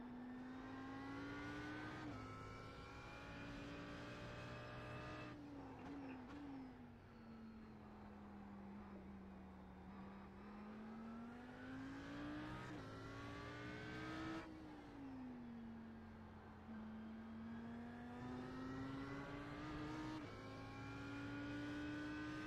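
Several race cars in the iRacing sim at Brands Hatch, a Blancpain Sprint event, with engines rising and falling in pitch through the gears as a small pack runs nose to tail, steady and continuous throughout.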